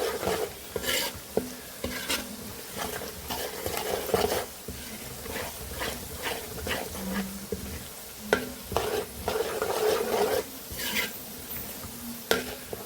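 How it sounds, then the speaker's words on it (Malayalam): Garlic sautéing in a pan for lemon pickle, giving a soft sizzle broken by repeated scraping stir strokes and light clinks of a utensil against the pan, quiet and close. "നമ്മുടെ വെളുത്തുള്ളി എല്ലാം ഒന്ന് വഴണ്ടിട്ടുണ്ട്."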